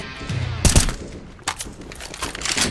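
Bursts of rapid automatic gunfire from a CS:GO match crack out in a tight cluster, followed by scattered single shots and quieter distant firing.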